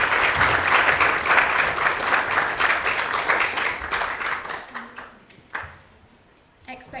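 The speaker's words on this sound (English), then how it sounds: "So please do a round of applause for Sarija." Audience applause at a TEDx Royal Holloway talk, a dense sustained clapping crowd that thins and fades toward the end, with a few scattered final claps.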